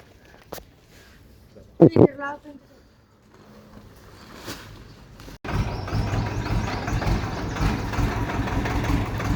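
After a few brief voices and clicks, a tractor engine rumbles to life and keeps idling steadily and loudly.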